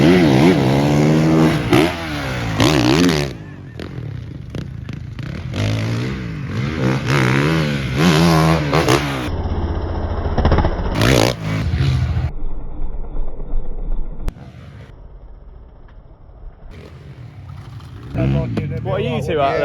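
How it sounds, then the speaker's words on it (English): A small mini bike motorcycle engine revs and whines through a fast lap, rising and falling in pitch as it accelerates and shifts, heard under loud nearby talking and fading to a distant drone. "Fastest lap ever on the mini bike."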